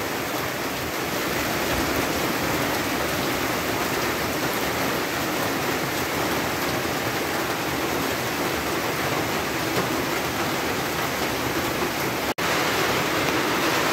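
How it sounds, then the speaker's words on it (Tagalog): Heavy rain pours steadily in a dense, unbroken roar, with one sharp brief click near the end. "malakas yung ulan"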